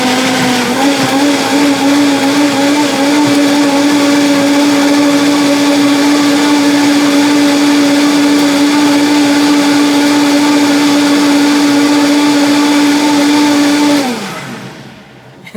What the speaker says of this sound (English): Now we're going to mix everything up in the blender.